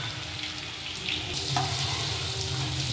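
Chopped onions fry in a pan with ginger-garlic paste and cumin seeds, giving a steady, close, even sizzle with a faint crackle that swells slightly partway through.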